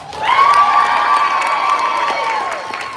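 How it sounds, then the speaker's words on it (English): A crowd at a fashion show cheers and claps for a young model, with loud high-pitched shouts and whoops riding over the applause. "Please give a round of applause for Ronnie."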